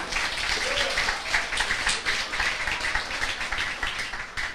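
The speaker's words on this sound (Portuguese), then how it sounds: "aplaude Jesus se você se sentir vontade mesmo" A church congregation claps during a sermon, giving steady, moderately loud applause throughout with a faint voice beneath it.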